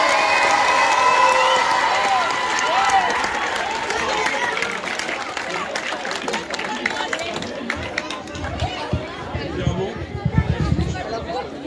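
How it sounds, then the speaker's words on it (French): A large crowd of children and adults cheers, shouts and applauds at a middle school charity cross-country event in Châteauneuf-sur-Charente, France. The noise is loud and sustained throughout, with bursts of louder clapping near the end. "Je voudrais qu'on applaudisse, mais alors très, très, très fort, Agnès Fraga"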